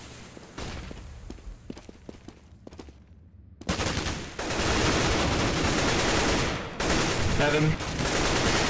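AK rifle fire in a competitive CS:GO match: scattered shots and thuds give way to loud, sustained automatic bursts, with a short voice heard among the gunfire.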